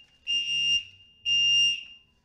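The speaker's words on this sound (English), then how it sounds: "you can hear we're having a fire alarm in the building" A building fire alarm sounding indoors, two loud electronic tones with a short gap between them and a trailing echo, heard alone.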